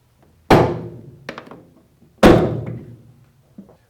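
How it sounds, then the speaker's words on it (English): Two loud plastic thunks sound as a pry tool pushes a car taillight out of its housing, each followed by a smaller knock, close and sharp in an otherwise quiet space. "With a twisting motion, use your pry tool to push the taillight towards the rear of the vehicle."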